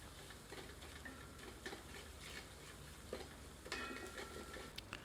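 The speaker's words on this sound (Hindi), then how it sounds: "तेल में 1 से 2 मिनट भूनते हैं।" Spiced masala paste frying gently in oil over low heat for Kashmiri chicken rogan josh, a soft continuous sizzle with faint scattered crackles and occasional stirring clicks.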